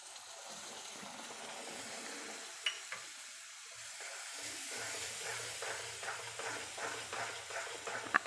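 Two spoons of milk hit roasted wheat flour for sukhdi, raising a soft hiss and sizzle as the mixture is stirred, with a few spoon scrapes and taps.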